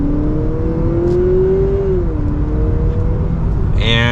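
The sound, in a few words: 2023 Honda Accord Hybrid Sport engine accelerating in sport mode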